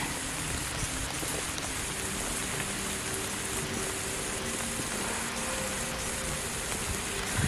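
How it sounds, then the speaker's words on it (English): Heavy rain pours steadily outdoors on a trail, a dense continuous hiss of drops striking surfaces nearby, with no voices over it. "Sorry about the rain, guys, but it's just something that we have to put up with today."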